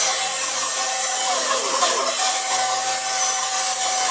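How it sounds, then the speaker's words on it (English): A bandsaw cutting extra hard balsa wood into thin strips for a model aircraft motor stick, giving a steady, loud, continuous whirring rasp with a slight shift in pitch as the cut progresses, heard alone. "extra hard balsa wood, and I cut it into strips with my bandsaw"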